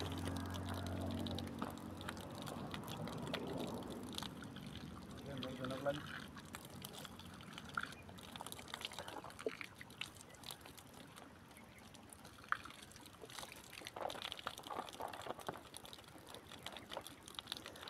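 A large stream of water gushes from a spout beside cotton fields and a high hill. The steady rushing pour is faint and distant, with scattered sounds around it.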